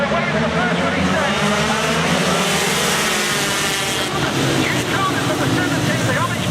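Motorcycles launch off the line at the start of the first race at Oulton Park road races, engines roaring together in a dense, sustained wash of revving, with a commentator talking over the noise.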